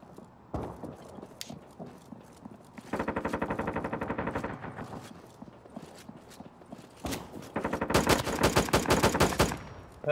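Gunshots in the Due Process game, a few scattered shots and then two long, rapid bursts of automatic fire, loud and close.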